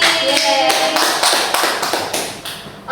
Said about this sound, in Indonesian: Tepuk tangan untuk Asti.